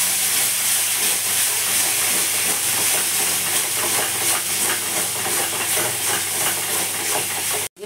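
Soaked spice paste hits a hot pan while cooking a spicy crab curry, giving a loud, steady, dense sizzle and hiss that fills the whole clip before cutting off abruptly at the end.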